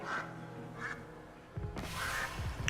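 A man imitates a duck's quack with a few short nasal voiced quacks, close up and clear, spread across a brief moment.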